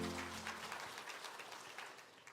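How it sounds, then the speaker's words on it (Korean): A church congregation claps in thanks during a Sunday service, a soft, fairly distant patter of applause that slowly fades. "감사의 박수를 하나님께 드리겠습니다."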